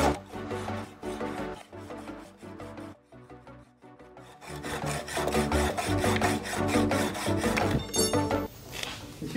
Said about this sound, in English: Grab your old hacksaw.